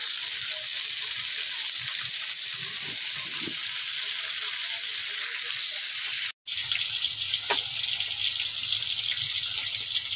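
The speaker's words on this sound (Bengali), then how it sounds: "মাছগুলোর 2 পিস ভেজে নিচ্ছি ভালো করে" Two pieces of tilapia, rubbed with turmeric and salt, frying in oil: a steady, even sizzle throughout, broken only by a brief cut in the middle.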